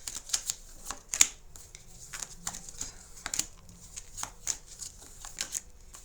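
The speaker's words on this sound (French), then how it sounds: "je la match quand même, je la mélange" Tarot cards shuffled by hand in quick, papery bursts of riffles and slides, close and fairly soft, repeating unevenly with short gaps.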